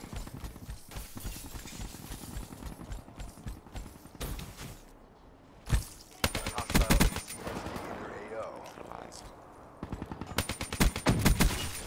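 Gunfire in the Black Ops 3 multiplayer video game comes as sharp bursts and rapid automatic volleys, loud and close. Footstep-like clatter fills the gaps, and a player talks throughout.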